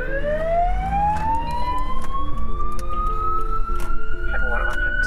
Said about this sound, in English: when the lights start flashing and the sirens are blaring